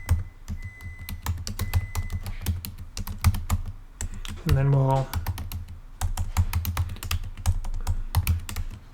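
Rapid keystrokes on a computer keyboard while code is entered, a steady stream of clicks running under a voice, which speaks briefly partway through.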